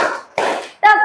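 A classroom of children clap their hands on command, heard as short bursts of clapping separated by brief pauses, with a teacher's voice mixed in.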